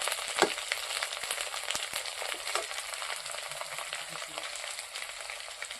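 Ground spices including coriander and Kashmiri chili stirred in a frying pan, a close, fairly soft crackling sizzle with a few scrapes of the spoon near the start, no speech.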